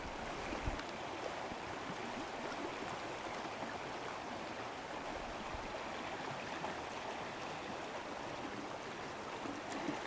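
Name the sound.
partly thawed river flowing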